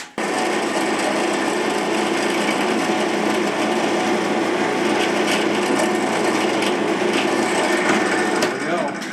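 A power drill bores a 1/4 inch hole through a wooden fishing lure plug, producing a loud, continuous grinding whir that holds steady for several seconds before cutting off at the end.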